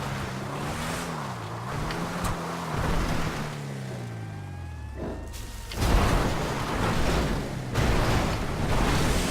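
Vapid Desert Raid, a 4x4 desert rally car in GTA V, drives with a steady engine drone that rises and falls in pitch through gear changes, joined by rougher rumble and gritty tire noise later on.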